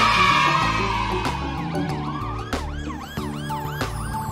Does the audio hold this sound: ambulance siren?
yes